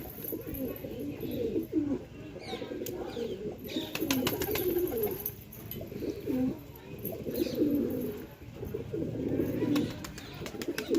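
Many pigeons feeding on grain, cooing in overlapping low, throaty calls, with wing flutters and soft pecking sounds, close by and fairly continuous.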